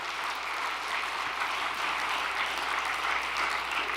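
An audience at a Korean religious overnight devotion service gives steady, continuous applause of encouragement, a dense even patter of many hands held at moderate level throughout.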